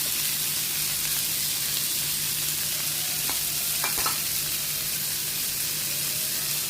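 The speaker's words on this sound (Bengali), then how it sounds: "বাটার দিয়ে সুইটকর্নগুলো খানিকক্ষণ ফ্রাই করে নিলাম।" Sweet corn sizzles in butter in a pan, a constant frying hiss with a few brief clicks and scrapes partway through.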